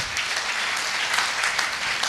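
A seminar audience claps loudly and steadily for an honoured guest, a dense continuous wash of many hands with no voices over it.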